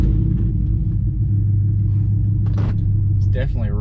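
Raspy, steady rumble of a truck's 5.3-litre V8 with long tube headers and a straight pipe exhaust, droning low and continuous throughout while cruising; a voice speaks briefly near the end.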